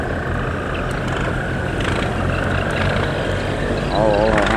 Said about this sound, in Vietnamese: hai ghe ở đây đang tập trung lên nè